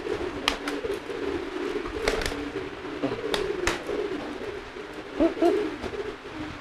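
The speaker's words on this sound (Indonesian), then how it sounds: "Merpati yang sedang giring seperti ini nih" A courting pigeon coos in repeated low, throaty bursts close by, punctuated by sharp clicks or wing taps, with no talking.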